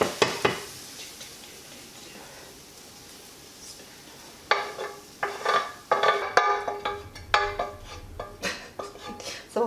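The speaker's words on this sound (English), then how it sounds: "we're going to take it and we're going to put these vegetables on this pan" Sautéed vegetables are scraped from a frying pan onto another pan, starting with quiet sizzling and then giving sharp metallic scrapes and clatters of a utensil against the pans, close and irregular.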